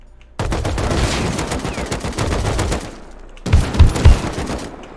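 Hip-fired automatic gunfire in the Rust video game, a loud sustained burst of rapid shots lasting over two seconds, a short pause, then a second burst with heavier thuds.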